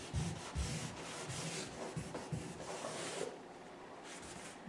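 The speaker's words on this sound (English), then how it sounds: "I'm gonna sand a little bit of this off" Sandpaper rubs paint off a wooden picture frame in rapid back-and-forth strokes, a close, rough scratching with a short pause partway through.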